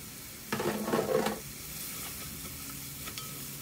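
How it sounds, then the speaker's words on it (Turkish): Chopped leeks sizzling and frying in a pan, with a short burst of scraping and stirring near the start before a steady sizzle. "Şimdi doğramış olduğum pırasaları ekliyorum."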